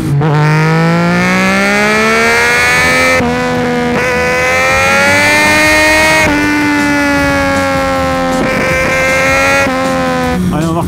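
A motorcycle ridden at speed gives a loud, continuous engine whine that climbs in pitch and drops sharply at each gear change, about three shifts in all, with no talking.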